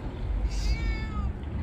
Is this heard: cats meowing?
yes